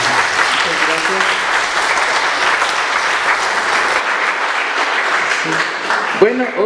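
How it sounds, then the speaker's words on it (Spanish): An indoor audience at a forum event applauds loudly and steadily for several seconds, a dense wash of clapping that thins toward the end as a voice comes in. "Le damos un aplauso a Oli, por favor."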